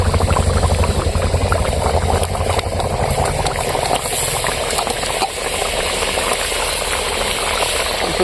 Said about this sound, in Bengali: ঝোল ফুটে গেছে দেখুন বন্ধুরা কত সুন্দর ঝোল ফুটে গেছে